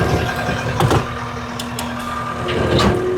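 Heavy equipment backs up to tighten a tie-down chain during securing for transport: a loud, steady diesel rumble with a few sharp metallic clanks and a faint tonal whine, close by.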